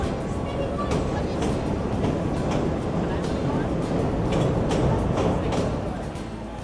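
A Chicago CTA Red Line subway train at the underground Chicago and State Street stop fills the space with a loud, steady rumble and rattling clatter, with indistinct voices blended into the din.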